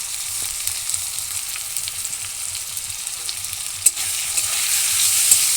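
Cumin paste, garlic paste, ginger paste and chilli powder are stirred together in a hot pan. A steady hiss of frying runs under quiet scraping, with one sharp clack partway through.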